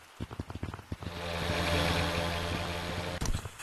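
Airplane engine in the Gorilla Tag VR game, a propeller drone that starts after a few choppy bursts, holds a steady buzzing hum for a couple of seconds, then breaks off with a click and sputtering.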